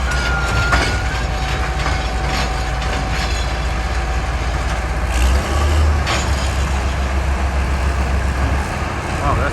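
Norfolk Southern SD70 locomotive pulling a train past, a steady low engine rumble with rolling wheel noise and faint clatter, fairly loud and continuous, with a swell in the middle.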